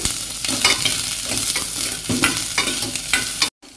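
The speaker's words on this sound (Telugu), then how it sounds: "ఇందులో కట్ చేసుకున్న ఆనియన్ని వేసుకొని వీటిని కాస్త లైట్ గోల్డెన్ బ్రౌన్ కలర్ వచ్చేంత వరకు ఫ్రై చేసుకోవాలి" Chopped onions fry in oil with mustard seeds for a ridge gourd and chana dal curry, a loud, close sizzle with rhythmic stirring scrapes that cuts off abruptly into silence.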